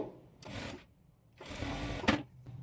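A sewing machine stitches a blouse sleeve in two close bursts of rapid mechanical running, separated by a short pause and ending with a brief click.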